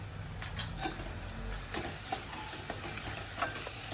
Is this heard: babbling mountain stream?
no